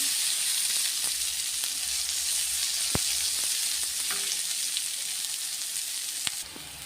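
Chopped onion frying in oil for spinach poriyal, a steady close hiss and crackle with occasional light clicks of stirring, no voices.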